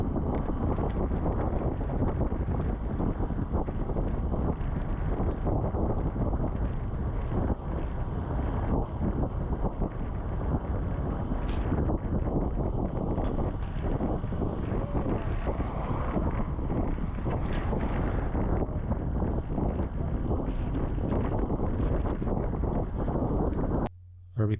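Strong wind buffets the microphone of a cyclist riding fast on the road from Prague to Dresden, a constant loud rumbling roar lasting throughout with gusty variations and no clear speech.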